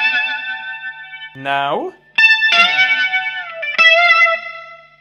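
Electric guitar playing a solo with distortion and delay, sustained bent notes ringing out with echoing tails, interrupted briefly by a spoken word.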